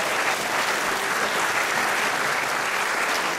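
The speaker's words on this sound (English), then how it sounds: "Round of applause for the top 10 male presenters" A dense, loud round of clapping from an awards-ceremony audience at a hospital radio awards event, even and sustained throughout with no voices on top.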